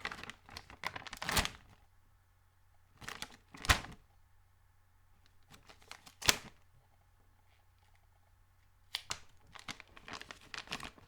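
A Jack Link's Tender Bites resealable bag being opened: bursts of close, loud plastic crinkling and tearing separated by quiet pauses, with faint background hum.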